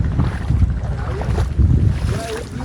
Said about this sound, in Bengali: দর্শক এই হচ্ছে বোট, এখন আমরা চলে যাচ্ছি আর মাছ নিয়ে যাইতেছে বিক্রি করার জন্য।